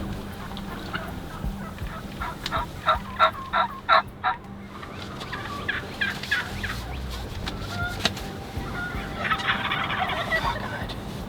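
Wild turkeys gobble in a rapid run of repeated calls in Nebraska, then more scattered gobbles answer from a distance, with faint bird chatter in the background.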